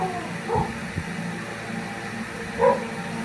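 A dog said to have rabies barks twice in the background, faint and distant, with a short yelp at the start and another near the end over a low steady rumble.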